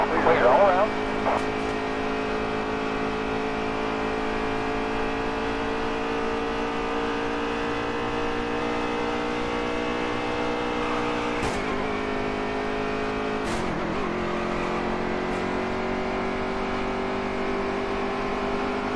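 Race cars in the NASCAR Heat 3 video game hold a steady, droning engine roar throughout, with a couple of brief louder bursts as a car passes close by.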